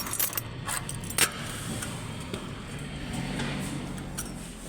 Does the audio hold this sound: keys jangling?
yes